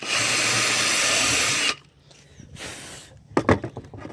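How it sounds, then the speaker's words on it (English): A power drill bores a pre-drilled hole in a wooden shutter with a steady, loud whirring for under two seconds, followed by quiet and a few scraping, handling knocks. "So find the center of it, and I drill it out."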